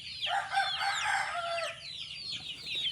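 Fighting roosters crow over one another amid a din of clucking hens, a dense, loud farmyard chorus with no break.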